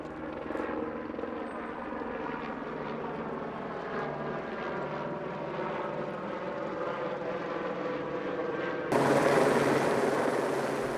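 A helicopter carries a wounded U.S. Marshals canine; a steady, loud rotor and turbine drone fills the whole stretch, growing a bit louder and harsher near the end, with no voices.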